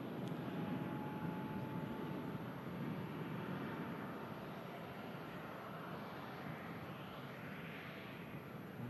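A plane at Manchester Airport gives a continuous, distant engine roar, a steady broadband rumble that holds for several seconds with no talking.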